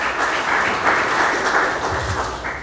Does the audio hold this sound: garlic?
no